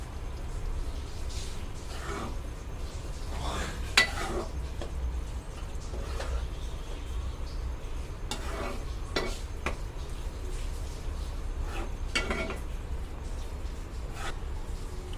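Chicken keema being stirred in a pan, with repeated scraping and clinking of a metal spoon against the pan over a low background hum, in irregular bursts and moderately close.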